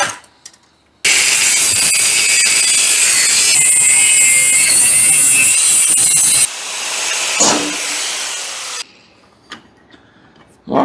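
A power tool cutting metal on a Chevelle, a loud, steady high-pitched grinding whine lasting several seconds, then dropping to a lower run before stopping, with brief quiet handling noises around it.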